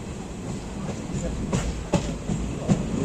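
A train stands at Murudeshwar station on the Konkan Railway, giving a steady low rumble with a few faint clanks and thuds, while indistinct voices murmur underneath.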